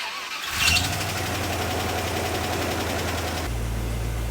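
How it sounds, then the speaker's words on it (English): A car engine cranks and catches after ignition and fuel injection repair work, then settles into a steady, low idle with a deep hum, close and loud. "It seems to be idling pretty steady and lower than it used to."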